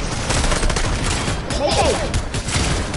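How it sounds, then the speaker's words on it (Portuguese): Gunfire in the Fortnite video game rattles through a dense, continuous mix of game noise, with a few louder bursts close by. "Tá atirando, né?"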